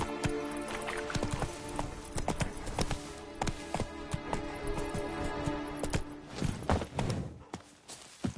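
Roach, Geralt's horse in The Witcher 3, gallops with a steady run of hoof clip-clops over a busy game soundtrack, hooves and thuds loud and close throughout.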